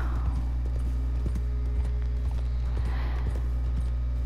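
Horse hooves clip-clopping in Red Dead Redemption 2, an uneven rhythm over a constant low hum, fairly close but not loud, with no talking.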